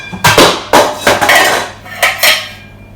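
Metal cookware clanks and scrapes nearby, several loud knocks in an uneven rhythm as a heavy pan is moved about.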